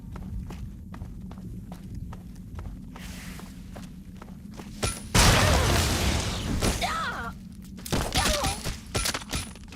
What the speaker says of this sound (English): something exploded on me